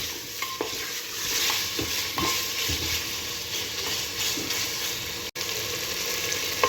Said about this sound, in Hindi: उतना भुनना ये घी में और अदरक लहसुन में अच्छी तरह से भुने जाना है इन्हें